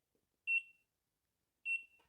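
A DM-262 bilateral laser distance meter in active mode gives two short, sharp electronic beeps about a second apart, clear and close against silence.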